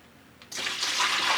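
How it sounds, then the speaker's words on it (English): Cold water poured from a measuring cup into a pan for dyeing yarn, starting abruptly as a close, full splashing gush that keeps running steadily to the end, without talk. "I've got 2 measuring cups with 2 liters of cold water in each. I'm adding that in there."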